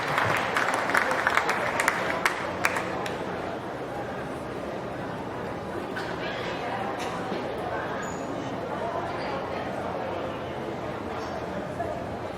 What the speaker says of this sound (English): Give these kids a good round of applause.